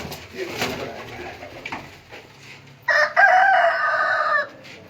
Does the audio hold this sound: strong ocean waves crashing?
no